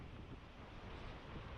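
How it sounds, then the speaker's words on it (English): An afternoon summer sea breeze at the shore buffets the microphone with steady, faint wind rush and low surf-like noise over about a second and a half. "So it's a typical sea breeze this afternoon."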